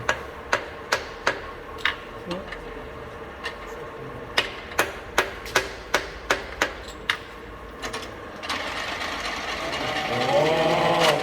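Sharp metallic hammer taps on a milling vise being leveled, a quick run of about a dozen evenly spaced strikes, close and distinct, fading into a brief noisy rustle at the end.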